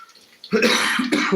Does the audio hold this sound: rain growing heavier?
no